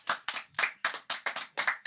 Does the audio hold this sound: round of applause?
yes